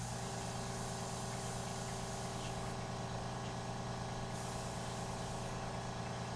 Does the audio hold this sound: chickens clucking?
no